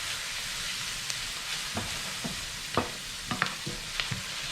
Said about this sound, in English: while it's sauteing, I'm going to add the rice.